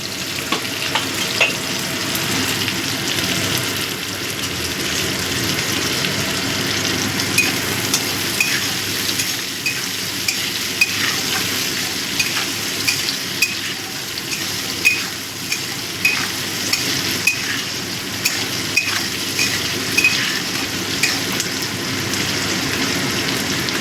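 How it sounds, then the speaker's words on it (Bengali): Onion and capsicum fry in a pan for begun bharta, giving a steady, close crackling sizzle like light rain, with occasional stirring clicks throughout. "পেঁয়াজ আর ক্যাপসিকামটাও ভাজা হয়ে গেছে"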